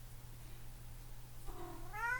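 A house cat gives a single rising meow near the end, fairly faint over a low steady hum, with no talking.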